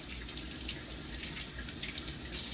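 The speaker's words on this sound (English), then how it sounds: "I've about got all these rinsed off" Citrus rinds rinsed under a steadily running kitchen tap, water splashing continuously over the peels in a sink, close and fairly loud with no voices.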